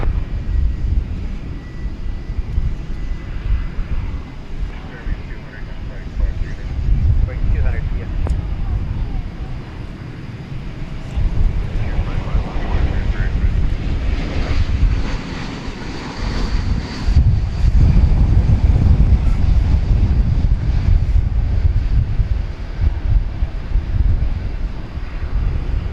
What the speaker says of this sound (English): Airbus A321 touching down from Phoenix, Arizona.